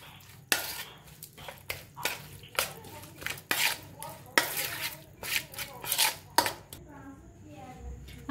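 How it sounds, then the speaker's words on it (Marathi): A spoon stirs fresh yogurt in a bowl, giving repeated light clinks and scraping strokes in an irregular rhythm, close up, with a voice at times in the background. "आता छान असं चम्मचने मिक्स करून घेऊया।"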